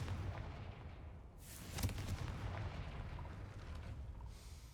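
A Confringo blast spell from the Hogwarts Legacy video game bursts out as a loud, booming explosion near the two-second mark, rising over a steady rumbling game background with no talking.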